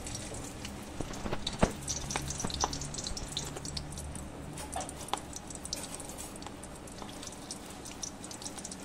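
Two chillies frying in mustard oil in a wok, with a continuous crackling sizzle and scattered pops, close and moderate in level, alone without talk.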